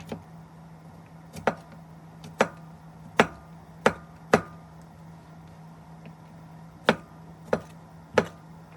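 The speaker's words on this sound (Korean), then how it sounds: "썰어줍니다" Knife slicing through crab on a board, about ten crisp separate chops at an uneven steady pace, close and clear over a low steady hum, no talking.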